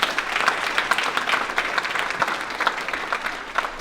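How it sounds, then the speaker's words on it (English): A crowd claps steadily, a dense patter of applause from many hands that holds an even level throughout. "Can we give them a round of applause?"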